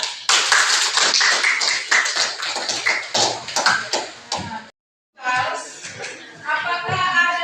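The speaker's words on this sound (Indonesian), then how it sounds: "kita beri tepuk tangan juga untuk kelompok 3" Students in a classroom clap for a presenting group, loud close sharp handclaps in an uneven burst that stops abruptly, then after a brief silence resumes with children's voices mixed in.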